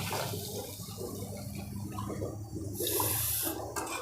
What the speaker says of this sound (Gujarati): હવે એમાં આપણે એક ગ્લાસ પાણી નાખીશું